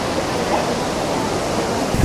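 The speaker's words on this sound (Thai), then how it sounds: "เป็นน้ำตกที่ไม่มีเขาไม่ให้ลงไปเล่นนะ" A large, deep, powerful waterfall in a mountain valley at Nikko, Japan, makes a constant loud rushing roar of falling water, heard close and unbroken throughout.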